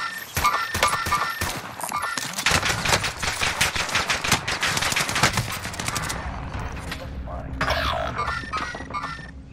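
PPSh submachine gun firing in a video game: rapid bursts of loud, close automatic fire, several long rattling strings back to back, tapering into sparser shots with other game effects.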